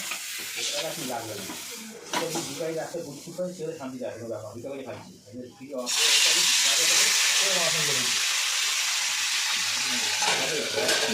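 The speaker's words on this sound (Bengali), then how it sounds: "এবার আমি মাছটা ছেড়ে ঢাকা দিয়ে দেব" Fish drops into hot oil in a pan, which is then covered, and a loud, close sizzle and hiss fills the second half after a quieter stretch of talking and faint frying.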